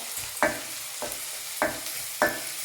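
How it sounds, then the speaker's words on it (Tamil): Chopped ginger and onion sauté in a pan with a steady, low sizzle, broken by four evenly spaced scrapes of a spoon against the pan. "இஞ்சி 2 நிமிஷம் வதங்கிடுச்சு."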